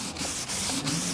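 Steady, close sanding with a gritty rubbing sound in quick back-and-forth strokes.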